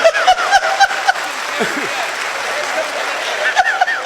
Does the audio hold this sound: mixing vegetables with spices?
no